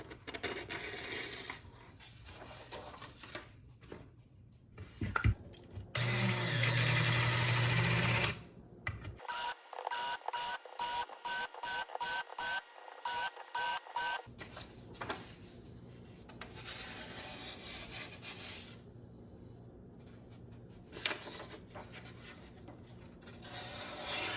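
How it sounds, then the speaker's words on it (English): A boning knife being sharpened gives bursts of scraping strokes, some quick and rhythmic, others longer and rasping, close and fairly quiet with pauses between sets. "This is the boning knife before I sharpen it."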